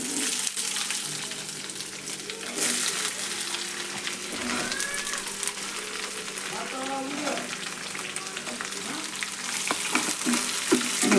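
Onion and curry leaves fry in hot oil in a continuous loud crackling sizzle, with occasional stirring and a faint voice in the background.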